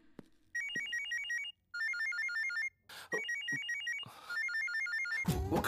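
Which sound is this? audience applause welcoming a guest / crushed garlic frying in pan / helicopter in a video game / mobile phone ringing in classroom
mobile phone ringing in classroom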